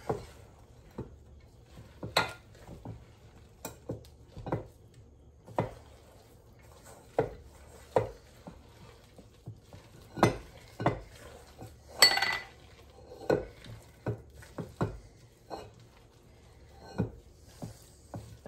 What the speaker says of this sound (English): I'm just going to go ahead and mix all of this together.